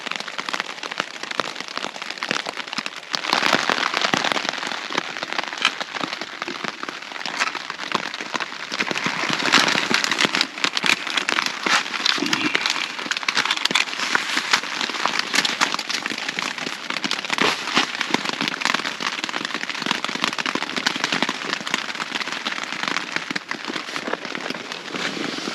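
Steady rain pattering on a surface outside a campsite shelter, a dense continuous crackling hiss lasting the whole stretch with uneven bursts of heavier drops, fairly close and with no talk over it.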